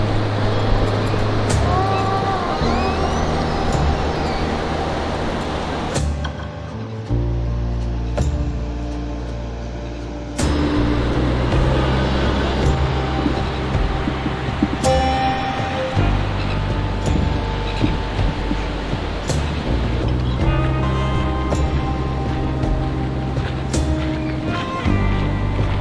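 Surf and waves breaking on a beach at Mount Maunganui, a steady broadband wash with swells and gusty wind, loud and continuous throughout with brief dips, no voices.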